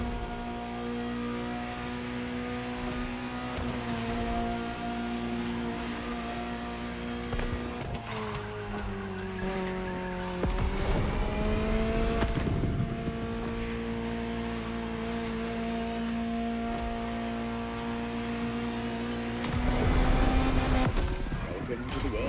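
A Ferrari supercar in the racing game The Crew Motorfest drones along with a steady engine note that rises through gear changes and revs, under background music.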